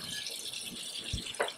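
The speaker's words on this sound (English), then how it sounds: "So cold water." Cold water running steadily from a tap over monkfish liver from Japan, a soft continuous splashing wash with a couple of brief louder splashes near the end, close by and alone.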